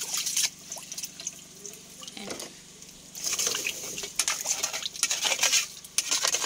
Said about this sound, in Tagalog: Kailangan mong haluin mabuti yung bigas.